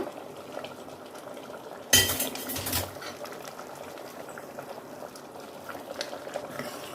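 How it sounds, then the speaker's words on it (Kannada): Andhra-style sambar boils in a pot on the stove, a steady bubbling simmer broken near the start by a brief loud clatter of a utensil against metal. "ಈಗ ನೋಡಿ ಚೆನ್ನಾಗಿ ಕುದಿ ಬರ್ತಾ ಇದೆ"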